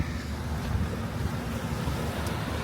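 Sea at Pattaya beach, with boats and jet skis on the water and some trash on the shore, heard as a steady low rumble of waves and wind buffeting the microphone, continuous and fairly loud, with no voices.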